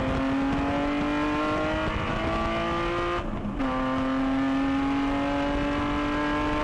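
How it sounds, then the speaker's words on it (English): BMW touring race car at a US Touring Car Championship race launching off the line with little wheelspin and accelerating hard through the gears, a loud steady engine roar with a brief dip at a shift, then pulling strongly again. "He just comes off the line with minimal revs, not too much wheel spin, perfect timing, and just grabs through the gears"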